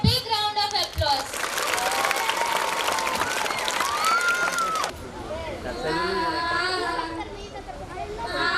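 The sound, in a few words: applause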